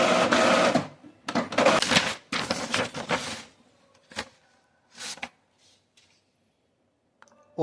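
An Epson EcoTank M2170 black-and-white duplex printer working close by, with bursts of rapid mechanical clicking and feeding chatter, then quieter intermittent clunks and pauses.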